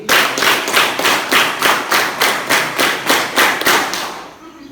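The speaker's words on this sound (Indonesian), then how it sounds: "Coba sekarang tepuk sekali lagi ya." Hands clapping in a fast, even rhythm, about a dozen sharp claps close by, with no talking.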